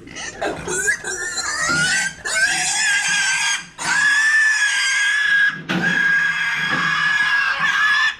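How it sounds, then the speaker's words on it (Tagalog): Farm pigs squeal loudly and continuously in long, harsh, high-pitched bursts with brief pauses between them, close by and drowning out everything else. "Alagang-alaga itong baboy na ito."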